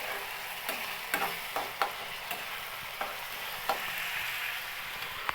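Onions stirred with ginger-garlic paste in a frying pan give a steady bright sizzle, broken by regular light clinks and scrapes of a spoon against the pan.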